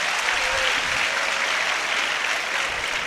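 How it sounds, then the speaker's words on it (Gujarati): A hall audience at a board-exam education event in Bhuj applauds, a full, continuous roar of clapping held at a steady level from start to finish, with no speech on top. "હવે તાળી બરાબર પાડી તમે"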